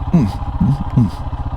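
A Royal Enfield Himalayan motorcycle engine idles with a steady low, pulsing throb, partly masked by someone talking close over it.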